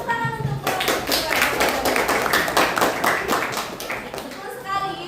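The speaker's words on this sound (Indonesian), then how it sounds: "tepuk tangan untuk kelompok 2" Students in a classroom clap for a presenting group, a short burst of quick, close hand claps lasting about four seconds, with a teacher's voice just before and children's voices faintly beneath.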